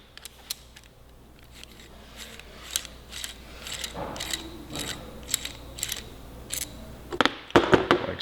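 Ratchet clicking in short bursts while taking apart the chain adjuster on a 2018 Suzuki GSX-R1000 sportbike, crisp close-up clicks spaced irregularly over a quiet background, growing denser and louder toward the end.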